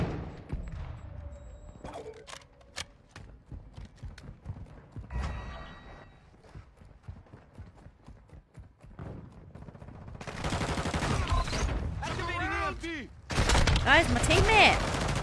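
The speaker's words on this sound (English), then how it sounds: "I tried shooting my teammate!" Video game gunfire crackles in scattered rapid bursts and single shots, with denser automatic fire toward the end, while someone talks over it.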